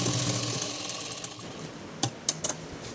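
A sewing machine stitching the seam of a lungi runs as a steady mechanical whir, with a few sharp clicks near the end, close and moderately quiet, with no voices.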